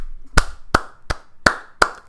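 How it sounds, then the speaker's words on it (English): Five sharp, close hand claps ring out alone at a slow, slightly uneven pace, each one a crisp isolated smack. "give yourself a round of applause"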